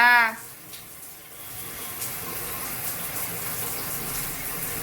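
A shower runs during a young boy's bath at home. A voice speaks briefly at the very start, then a steady, moderately loud stream of falling water continues alone.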